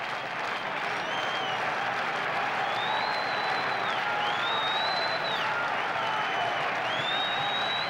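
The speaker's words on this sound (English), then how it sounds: "And now listen to the crowd again with a 2-strike count on the hitter." A stadium crowd at a Yankees baseball game against the Angels roars and claps continuously with a two-strike count on the hitter. The cheering is steady and dense, with whistles rising above it.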